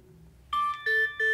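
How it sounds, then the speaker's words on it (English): A Samsung Galaxy Watch Ultra sounds its water-lock water-ejection tone as the lock is released: three short loud electronic tonal bursts in quick succession after a quiet start. "That sound is meant to drive any water out of your speakers"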